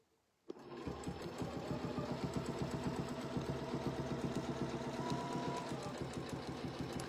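A sewing machine stitches a quilt with a lampshade design, putting in tacking stitches. It starts abruptly and keeps up a steady, fast, close mechanical whirring and clatter with no talk.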